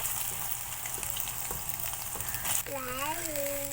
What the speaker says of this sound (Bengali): সোয়াবিনগুলো লাল লাল করে ভেজে নেব